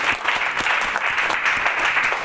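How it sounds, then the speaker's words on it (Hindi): A church congregation at a Hindi-language worship service applauds loudly. The dense, steady clapping from many hands fills the whole moment. "और बहन के लिए जोर से सब लोग ताली मारे।"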